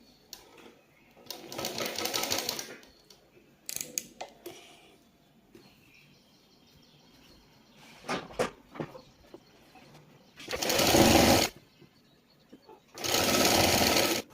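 Sewing machine running in separate bursts while stitching the folded hem of a kurti, with loud stretches of a second or more and quieter handling noises between them.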